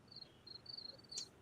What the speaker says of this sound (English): Is that crickets in the background?